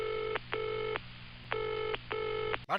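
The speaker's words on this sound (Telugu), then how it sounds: "కమలాసన్ గారు ఫోన్ చేద్దాం." Telephone dial tone or ringback on a call being placed, four evenly spaced bursts of a steady multi-tone beep, close and clear, ending with a brief click.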